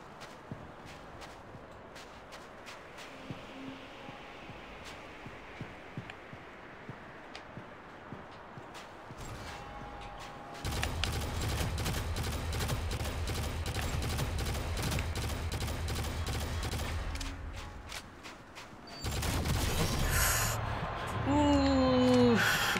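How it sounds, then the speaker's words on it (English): Gunfire in the PvP shooter game Shadowgun Legends: light steps give way to a sustained run of rapid, sharp shots in the middle, then more bursts, with voices talking now and then. "That shotgun is so scary, man."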